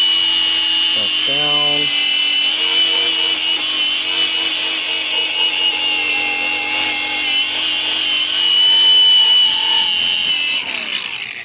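A wire wheel on a power tool grinds undercoating and paint off a Meyers Manx car body. It gives a loud, sustained high whine that stays close and continuous, briefly changes pitch early on, and winds down at the end.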